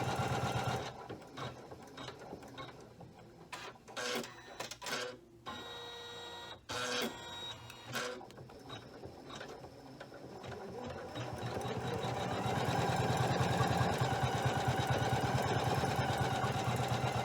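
A Janome 500E embroidery machine stitching, with bursts of rapid mechanical clatter broken by pauses and trim clicks, then settling into a continuous loud whirring run.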